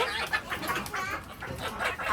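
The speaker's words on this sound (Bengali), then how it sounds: "এই জায়গাটা হচ্ছে মুরগির মা আর মুরগির বাচ্চা" Hens cluck and chicks peep in a busy, continuous chorus, with soft chatter layered throughout and no talking.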